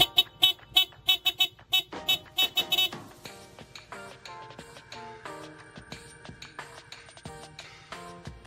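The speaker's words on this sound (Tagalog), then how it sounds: "Kaya tignan nyo yung tunog ng Bosch na horn guys." A Bosch horn fitted to a Yamaha Fazzio scooter blares in a quick burst of short, loud, close honks, then gives way to passing motorbike traffic in the background.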